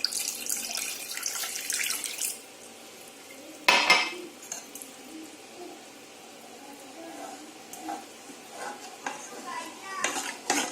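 Appam rice batter is stirred with added water in a pot, giving scraping and clinking utensil sounds against the metal, a sharp knock near the middle, and faint watery sloshing between quieter pauses.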